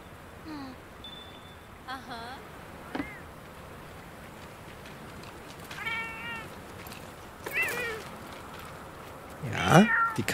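Cat meows from the video game Monster Hunter World: Iceborne, several short mewing calls and a louder wavering meow near the end, scattered over low game background noise.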